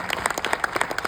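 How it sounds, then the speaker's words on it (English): A live audience at a film festival event breaks into a round of applause, dense overlapping hand claps forming a steady, fairly loud wash with no voices over it. "let's hear a round of applause"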